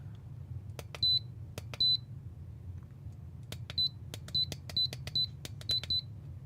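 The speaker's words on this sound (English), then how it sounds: "I desperately need to get into the menu because the beeping is going to destroy me." An electronic device at setup emitting short, sharp high-pitched beeps, two early then a rapid irregular series, alongside clicking taps over a low background hum.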